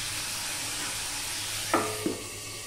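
Potatoes and onions, salted and seasoned with turmeric, fry covered in a pan over a low gas flame, making a soft continuous hiss broken by two quick utensil knocks near the end.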